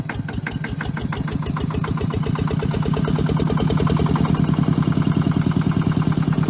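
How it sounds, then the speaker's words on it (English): A Fendt Fix 1 tractor's little one-cylinder engine catches and settles into a smooth, steady chuffing idle, each firing pulse distinct and close, the beat quickening slightly and growing louder as it warms. "Pretty smooth for a little 1-cylinder engine"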